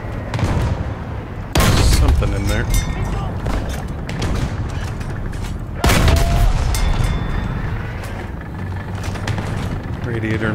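War Thunder ground battle in realistic mode, heard from a T-26 light tank: two heavy, close booms of gunfire and artillery burst out over a constant loud engine and battlefield rumble.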